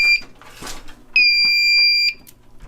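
A newly installed fire alarm panel sounds its alarm during a system test: a brief loud electronic tone, a pause with handling noise, then a second sustained piercing tone lasting about a second before cutting off.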